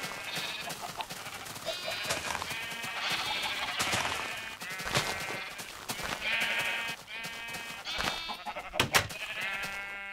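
Several sheep in Minecraft bleat repeatedly over about ten seconds, their overlapping calls steady and fairly close against a busy game background.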